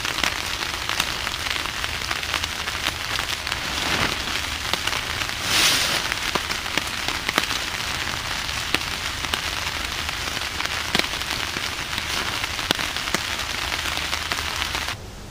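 Heavy rain pours onto a tarp during a rainstorm, a loud, continuous drumming patter with scattered sharper drips and crackles, steady and close for the whole stretch without any speech.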